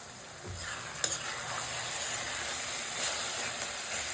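Steady sizzling and hissing of tomatoes frying in a covered pan for tomato poha, with a faint clink or two and no voices.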